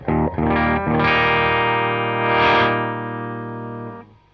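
An electric guitar chord rings through a Marshall Bluesbreaker amp with gain lowered to halfway, moderate, slightly dull crunch, a few quick strums then a sustained chord that fades out.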